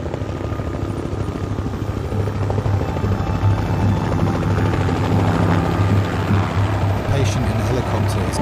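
A medical rescue helicopter's rotor thumps loudly and steadily nearby, a continuous chopping drone with a voice faintly audible beneath it.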